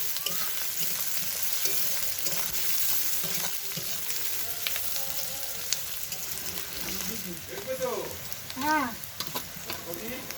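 Chopped onion and green chillies fry in hot oil for chilli chicken, giving a steady, fairly faint sizzle throughout, with a few light stirring sounds near the end.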